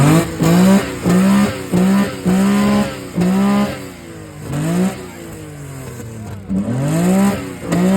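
Datsun 240Z engine revved hard at an import car show, a series of loud sharp blips with quick rises and falls, the later revs longer and more drawn out.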